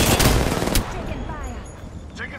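Loud video game gunfire bursts at the start, fading into lighter trailing shots and echoes, with faint voice chatter underneath.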